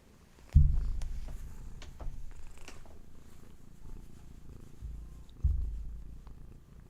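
A cat purrs close by in a low, steady rumbling drone that swells in two stronger bursts and continues softly between them, with no talking.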